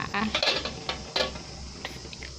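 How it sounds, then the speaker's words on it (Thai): An old metal lid goes onto a cooking pot of boiling tom yum with red tilapia, making a few light clanks and clatters that are fairly faint and closely spaced. "แล้วก็ปิดฝา"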